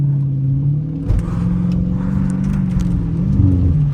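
From inside a 2022 Dodge Challenger Widebody Scat Pack drifting in snow, the engine gives a loud, steady low rumble that swells and shifts pitch slightly as the throttle changes. Light rustling sounds come from the cabin.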